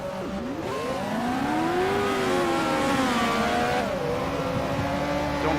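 An F1 car engine in the F1 Challenge racing game whines at a high, clear pitch, then drops through several downshifts with falling and rising revs, loud and continuous.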